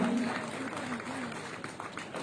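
Crowd applause at a police recruits' passing out parade at a training centre, a steady patter of clapping heard under someone speaking over a loudspeaker.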